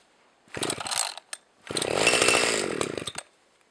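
A Homelite XL 12 or Tanaka ECS 300 chainsaw, started without the choke in rural Sweden, roars in two close bursts: a short rasping run, a brief pause, then a longer buzzing surge that cuts off abruptly.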